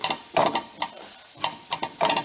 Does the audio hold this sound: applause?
no